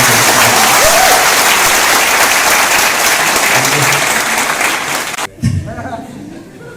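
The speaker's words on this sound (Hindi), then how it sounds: "एक बार जोरदार तालियां" A seminar crowd claps loudly and continuously, a broad wash of applause that cuts off suddenly near the end, followed by a brief voice.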